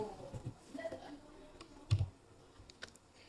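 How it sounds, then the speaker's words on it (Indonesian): Keys on a computer keyboard are tapped in a few scattered, light clicks while a Django project's settings are being edited. The clicks come close but faint over a quiet room hum. "Kita ketikkan di sini Jasmine."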